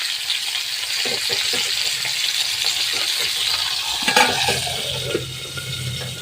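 Sliced bitter gourd fries in a pan without added water, giving a steady loud sizzle with scraping stirs and a few clinks of the spoon against the metal.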